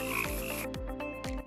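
A frog croaks in a few deep, repeated calls, close and clear against a faint ringing background.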